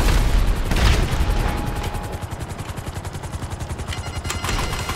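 Gunfire in GTA Online's Cayo Perico heist: loud, rapid, evenly spaced bursts rattle on continuously, heavy at first and then settling into a fast, regular pulse.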